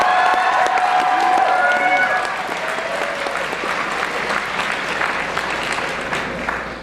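Auditorium audience at an anime convention masquerade claps steadily for several seconds, dense and fairly loud, with scattered whoops and cheers in the early part before tapering slightly.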